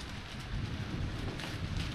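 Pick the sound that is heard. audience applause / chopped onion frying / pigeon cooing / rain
rain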